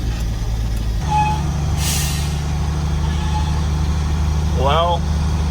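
A six-wheel-drive truck rumbles steadily along at night with a heavy low engine drone and a brief hiss like an air brake, loud and close, while someone talks over it.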